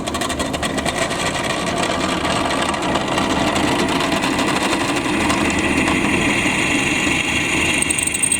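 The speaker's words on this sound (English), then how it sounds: "This is a 7/32 drill bit." A drill spins a 7/32 drill bit into metal while repairing a Husqvarna RZ 4621 zero-turn mower, giving a steady, continuous whine and grind at close range that runs for the whole stretch with no talking.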